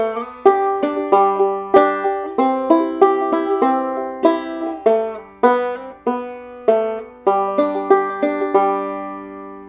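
A banjo played in two-finger thumb lead style picks a bright, plucked tune of quick notes with sharp attacks and ringing decay, close and clear with no talk.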